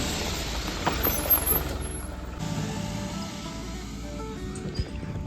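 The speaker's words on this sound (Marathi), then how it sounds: "गॅसची गाडी आहे." A gas cylinder delivery truck rumbles nearby with a low engine drone, with a few sharp knocks and a hissing burst partway through, heard at moderate distance.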